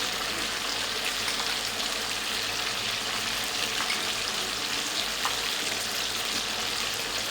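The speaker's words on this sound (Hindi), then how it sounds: "आलू फ्राई होते 2 से 3 मिनट हो गए हैं।" Potatoes frying in a karahi with ginger-garlic paste give a steady, dense hiss and crackle that runs unbroken the whole time, close and even, with no talking.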